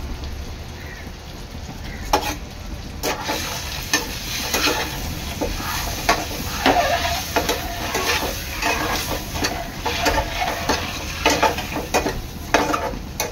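Eggs sautéing in masala for Hyderabadi egg curry, a steady close sizzle of frying with repeated scraping stirs and spatula knocks against the pan running throughout, no voices.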